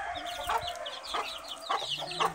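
Dutch white-crested blue chickens cluck in a short run of soft, repeated calls at close range, with quiet yard noise between them.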